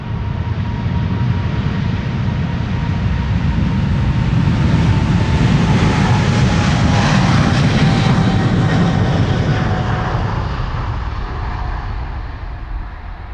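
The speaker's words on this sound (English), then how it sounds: "KLM Flight 743 is a 777-300." A KLM Boeing 777-300, registration PH-BVU, about seven years old, departs Amsterdam Schiphol, its jet engines building to a loud, full roar with a steady whine before gradually fading, and nobody speaks.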